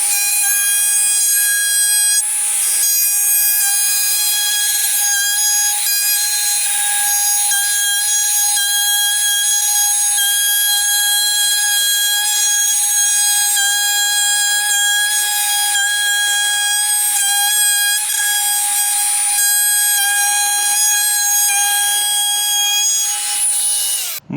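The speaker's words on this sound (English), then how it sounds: "I'm just gonna put a chamfer on both sides and across the top, but not on the bottom" A hand router cuts a chamfer into a hardwood sign, giving a loud, steady high-pitched whine with a continuous buzzing cut that barely changes for over twenty seconds, heard alone and close up.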